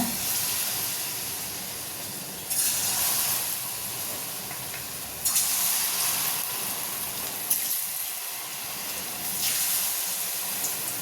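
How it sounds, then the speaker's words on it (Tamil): Battered cauliflower pieces dropped into hot oil for Manchurian, giving a steady frying hiss that swells sharply several times as new batches go in, with no talk. "இதை இப்போ இந்த காலிஃப்ளவர் இதில் நினச்சி எண்ணெயில் போட்டுடலாங்க."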